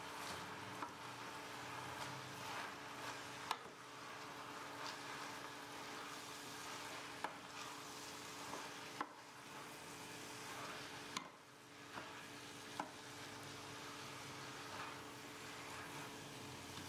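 Spaghetti squash and wilted spinach being stirred in a pan, a faint, steady low sizzle with a few soft scrapes and taps of a utensil, quiet and without talk.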